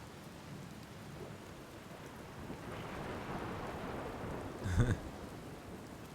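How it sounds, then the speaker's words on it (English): Steady rain hissing across a stormy scene in the space exploration game Outer Wilds, with a low rumble of thunder building and a brief crackling lightning strike near the end, faint overall. "Lightning storm."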